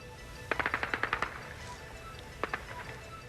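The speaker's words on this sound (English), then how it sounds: "Gunfire rings out near the Russian Parliament building." A rapid burst of automatic gunfire, about eight sharp shots in quick succession, then a shorter second burst, heard at a distance near the Russian Parliament building in Moscow, 1991.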